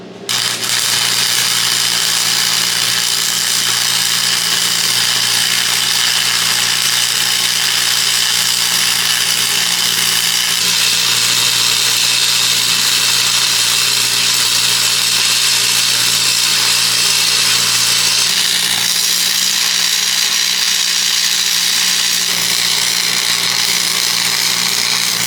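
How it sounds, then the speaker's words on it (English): An old cracker box arc welder runs steadily at close range, a continuous loud buzzing crackle with a constant hum beneath it that barely changes over nearly half a minute, and no voices. "we're gonna see if we can get this welded together"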